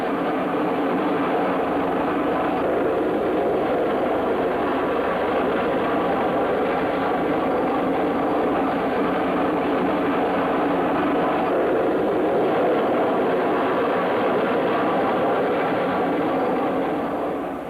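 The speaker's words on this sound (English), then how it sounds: "Mission number 2, transition to horizontal flight, completed." Vertijet VTOL jet aircraft flying, a constant loud roaring engine rush with broadband noise, steady and unbroken for the whole stretch.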